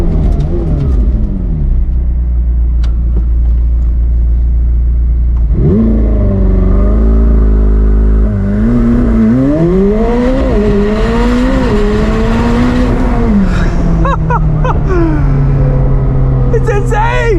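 A 2022 McLaren 765LT Spider launching under launch control: deep idle rumble as boost builds, then a loud roaring surge with rising engine pitch through quick gear shifts, fading into a steadier drone.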